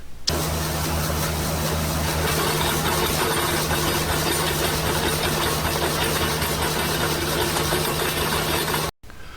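Diesel engine of a Bobcat E42 compact excavator running steadily during land clearing, a loud, close, continuous mid-pitched drone with a low hum and no speech, cutting off abruptly just before the end.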